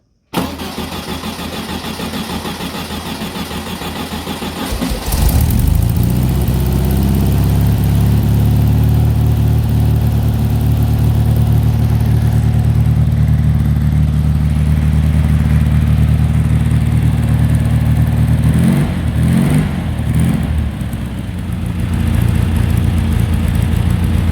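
A VW trial special buggy engine fitted with a Solex H30/31PICT carburettor starts up after a few seconds of quieter sound, then runs at a loud, steady idle with a slight rise in revs near the end.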